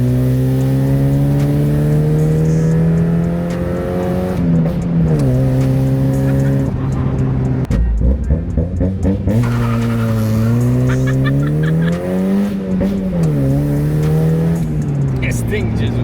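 A Mazda Miata engine revs hard and repeatedly as the throttle is blipped, its loud droning pitch rising and falling in waves, recorded close from inside the car with people talking over it.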